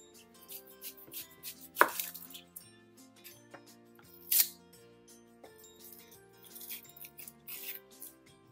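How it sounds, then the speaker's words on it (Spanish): A knife chops a chile pepper on a cutting board in a series of close, crisp, irregular strikes, two of them sharp and loud, with quiet music underneath and no talking. "Ahora lo que voy a estar haciendo es que voy a picar este chile."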